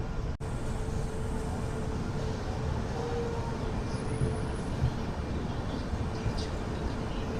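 A passenger train pulls into Gudur Junction railway station in India, arriving eight minutes late, a steady broadband rumble of rolling wagons and station bustle holding evenly throughout, with no clear voices over it.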